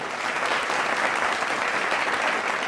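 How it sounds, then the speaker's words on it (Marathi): Sustained applause from an audience at a Marathi kirtan (devotional discourse) led by Namdev Maharaj Shastri, a dense, steady wash of many hands clapping at close range with no voices on top. "म्हणून त्यांच्या नावाने एकदा टाळ्या झाल्या."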